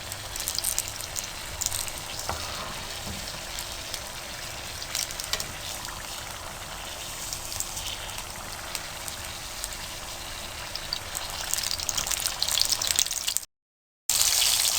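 Chili pakoras (mirchi pakoray), battered in gram flour and stuffed with chicken or potato filling, crackle and sizzle in hot oil with a steady, dense hiss that holds evenly and briefly cuts out near the end.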